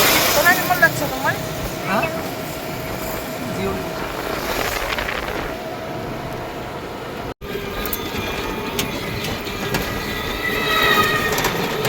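A train rumbles along its rails in a steady, continuous roar with faint rattling and wheel squeal, heard from on board or close by, with people talking over the noise throughout.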